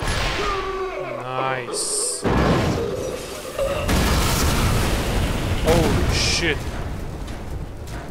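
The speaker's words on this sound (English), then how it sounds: "Huge explosion." A huge explosion in a video game booms loudly and fills the soundscape, followed by sustained rumbling and crashing game noise with further bursts; someone talks over parts of it.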